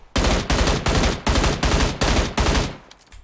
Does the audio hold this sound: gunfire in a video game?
yes